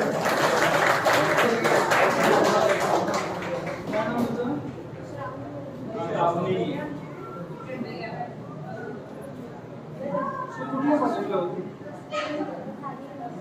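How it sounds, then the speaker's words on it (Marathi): An audience at a school award ceremony for meritorious students claps loudly for several seconds, then the applause thins as people begin talking over it. "जोरदार टाळ्या विद्यार्थीसाठी."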